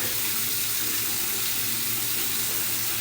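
A steady rush of running water rinses a BaldiePro head shaver, a constant close hiss that holds for the whole stretch without breaks.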